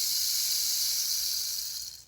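Short hissing cascade from a homemade cactus rain stick, its filling trickling down over inner bumps in a smooth, even rush that fades out after about two seconds.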